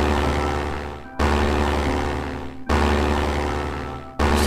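A propeller plane engine in the Minecraft Planes Mod buzzes steadily, cutting off abruptly three times and restarting at full strength, a loud continuous droning hum with no voices.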